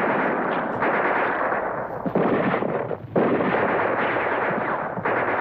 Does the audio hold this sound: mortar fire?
yes